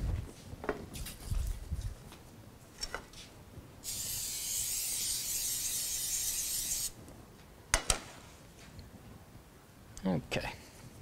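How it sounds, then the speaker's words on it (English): Cooking spray hisses into a pan for about three seconds, a bright steady spray standing alone between quiet moments and a few knocks and clatters. "we need to spray our pan"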